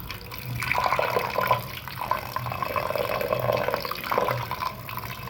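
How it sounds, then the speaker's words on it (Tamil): Water runs steadily from an Aquaguard water purifier tap in a home kitchen, a continuous close splashing stream filling a vessel, alone with no talk. "நான் அப்படியே அக்வாகார்டை திறந்து விட்டுட்டேன்."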